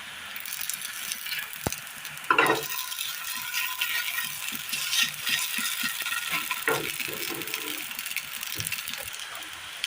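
Banana and wheat flour snacks fry in a pan on a home stove as they are turned over, giving a low, steady sizzle broken by occasional scraping and clattering.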